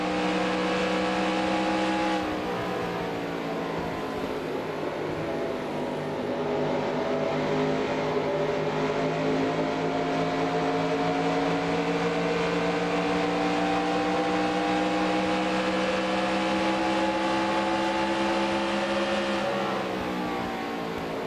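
Stock car engines from the NASCAR Racing 2003 video game at the 1998 Las Vegas 400 drone steadily as a pack, with sustained harmonic engine tones rising and falling for about twenty seconds, loud and continuous with no talk.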